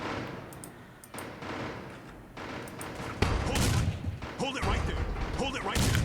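Bursts of gunfire and heavy booming explosions in the video game The Suffering, dense and loud, rattling in rapid clusters over several seconds.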